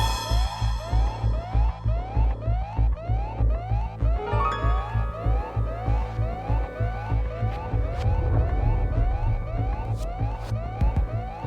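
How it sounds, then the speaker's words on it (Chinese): An electronic alarm blares in a loud, steady repeating pulse, with rising sweeps and rhythmic beeps continuing for several seconds with no talk. "怎么警报就响起来了呢？"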